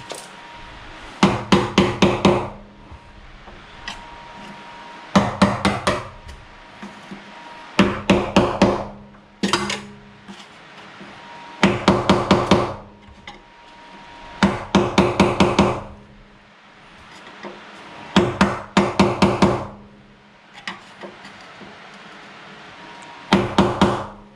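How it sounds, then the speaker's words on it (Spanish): A hammer repeatedly strikes metal parts in the engine bay of a Saab undergoing an E36 swap, landing in loud, sharp bursts of several rapid blows separated by short pauses. "Y este voy a meterle con el martillo desde ahí."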